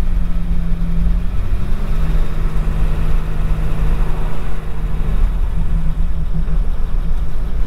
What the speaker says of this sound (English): Now we've just shifted into high by taking our foot off the gas, and so we're in overdrive now. and we're taking another steep grade in overdrive effortlessly.